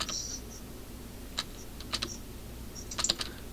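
Computer keyboard keys click in short bursts, sparse single taps then a quick cluster of double presses near the end, close and fairly quiet over low background hum.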